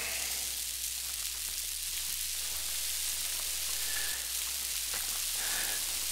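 Steady hiss and trickle of a video game character urinating into a growing puddle, a continuous faint splashing stream with no voices.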